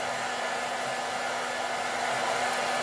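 A hair dryer blows steadily at close range to dry a pair of heeled shoes, a constant loud whirring hum with no break.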